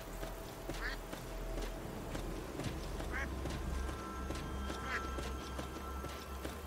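Ducks quack a few times in a modded Skyrim game, short nasal calls spaced about two seconds apart, set against a dense rumbling ambient background of wind and music.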